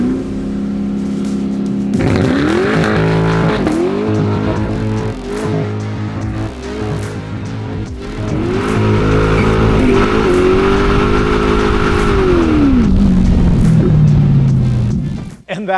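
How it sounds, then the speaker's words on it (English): A 2027 Chevrolet C8 Corvette Grand Sport doing a burnout in burnout mode: the engine revs up and holds high several times, with tire squeal building toward the end, loud and close, under faint background talk. "that is how you do a burnout in the new 2027 C8 Corvettes"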